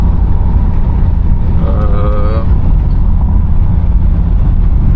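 A 1981 Oldsmobile 98 Regency running while driving, a loud, constant low engine and road rumble heard from inside the car, with a brief faint voice partway through.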